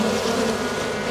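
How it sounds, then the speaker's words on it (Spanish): A honeybee hive holding tens of thousands of bees gives off a dense, steady buzzing drone, heard up close and unbroken, with no voices. "Vamos a escuchar el panal cómo suena, porque también el panal se escucha, miren."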